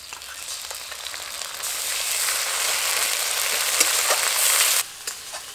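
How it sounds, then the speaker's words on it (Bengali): Ginger garlic paste sizzles loudly as it fries with browned onions in hot oil, a dense steady hiss that swells, carries on for several seconds, then drops off abruptly near the end. "এবার দিয়ে দেবো আদা রসুন বাটা।"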